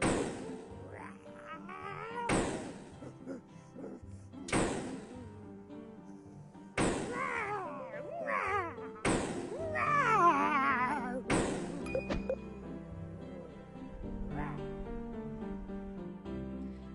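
A Yeti sound effect from an animal sounds app plays as a series of repeated loud thumping hits with warbling, growling calls between them, spread across the whole stretch at moderate volume.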